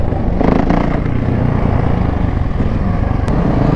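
Yamaha Raptor 450 quad running close by, a loud continuous buzzing engine roar with slight fluctuations throughout, no talk.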